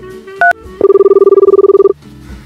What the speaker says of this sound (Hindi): तो चलिए मैं उनको फोन लगाता हूँ बिना देर किए हुए